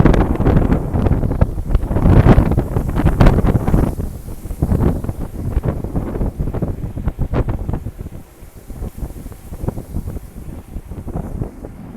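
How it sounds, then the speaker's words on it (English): Strong headwind buffets the microphone while cycling, a loud continuous roar with gusty rumbling bursts that ease slightly toward the end; no one speaks. "Into the headwind, it's a lot more hard work."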